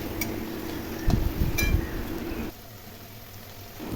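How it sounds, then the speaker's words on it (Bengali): A spoon stirs jackfruit curry in a pan with a little water, producing a brief burst of clinks and scraping against the metal, then a quieter low simmer. "অল্প জল দিয়ে দিয়ে বারবার করে নেড়ে নেড়ে কষিয়ে নিচ্ছি"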